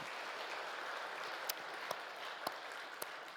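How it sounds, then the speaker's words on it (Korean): Church congregation applauding newly appointed officers at an afternoon service, a faint, distant patter of clapping with a few sharper individual claps popping out over the soft wash. "우리 이분들한테 한번 박수로 격려 좀 부탁드립니다."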